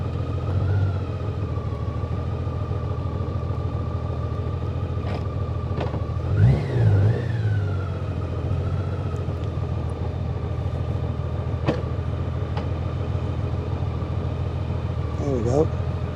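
A 2021 Honda Gold Wing DCT motorcycle rolls forward with a steady low engine rumble throughout, close by, as someone talks over it.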